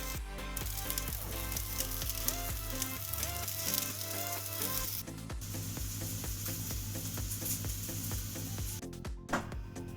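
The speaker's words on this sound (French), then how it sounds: "Ah voilà, les nuggets sont poêlés de l'autre côté." Homemade chicken nuggets pan-frying in oil, a loud, continuous close sizzle with crackling spits throughout, and a few utensil knocks near the end.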